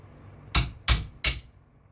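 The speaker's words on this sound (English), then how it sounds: "use my comically tiny hammer and the blunt tool" A small hammer taps a blunt tool three times in an even rhythm to knock brass loose, each strike a sharp, close metallic clink.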